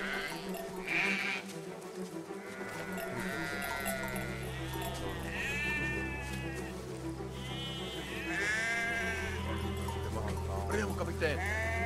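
Sheep bleat in the video game Valiant Hearts, several wavering calls rising and falling over a steady low game soundtrack, with a person talking over parts of it.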